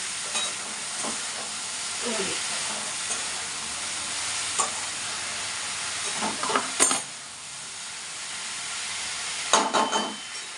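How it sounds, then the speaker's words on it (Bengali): Food frying in a pan on a home stove, a loud continuous sizzle with occasional scrapes and clinks of stirring, close to the microphone. "এটা তো ভাজা হচ্ছে"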